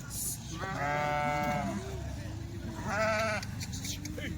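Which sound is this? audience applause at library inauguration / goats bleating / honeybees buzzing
goats bleating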